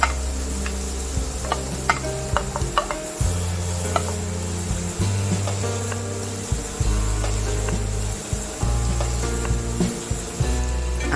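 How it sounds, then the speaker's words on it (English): Chopped onions cook in olive oil in a large pan for a vegan pasta sauce, a close, steady sizzle broken by repeated wooden scraping and stirring strokes, with a low hum underneath. "In a large pan, add olive oil, add chopped onions"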